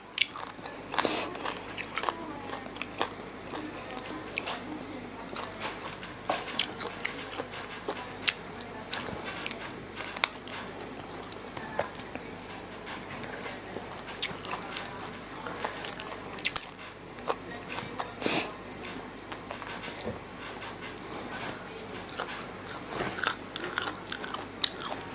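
Grilled frog served with fresh bitter melon and sticky rice is chewed close to the mic in a mukbang, with crisp bites and wet crunching that repeat steadily and loudly for about 25 seconds.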